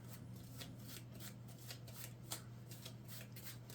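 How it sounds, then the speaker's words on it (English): A small stack of four playing cards from a card game is shuffled by hand, giving a steady run of soft riffling flicks and slaps close by over a low constant hum, with no talking. "So I will try to shuffle this without looking. It's hard to shuffle 4 cards"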